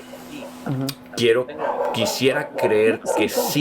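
A pet dog barks and yips repeatedly in the background of a home call, several short sharp barks mixed under a man's speech.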